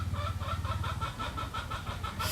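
A chicken in rural Tarlac province, Philippines, clucks close by in a quick, steady series of rhythmic clucks with no one talking.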